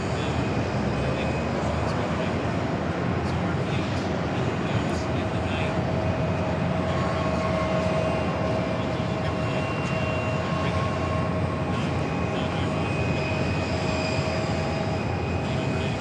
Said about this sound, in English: And more pushback action right below our cameras here.